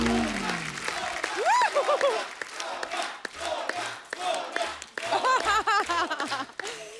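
A studio audience at The Kapil Sharma Show claps and cheers to welcome a guest, lively applause mixed with shouts and voices, swelling and dipping over several seconds.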